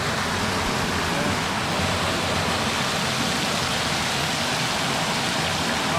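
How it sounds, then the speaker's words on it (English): A waterfall at the Blue Lagoon in Iceland roars nearby as a constant, loud, broadband rush of falling water, steady throughout without pause or speech. "So this waterfall is a natural shoulder massage."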